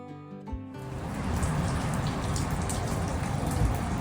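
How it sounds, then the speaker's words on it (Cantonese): Rain at a shrine in Koriyama, Japan, quickly swells from quiet into a dense, steady patter of drops on surfaces, getting heavier and staying loud to the end. "雨勢越嚟越大啦"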